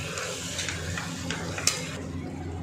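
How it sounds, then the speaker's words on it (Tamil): Fresh mint and coriander leaves fry and get stirred in a pan for mutton keema biryani: a quiet, steady sizzle with soft scraping strokes and a sharp metallic clink near the end, no voices. "நல்லா இது நல்லா வதங்குற வரைக்கும் நல்லா கலந்து விட்டுருங்க."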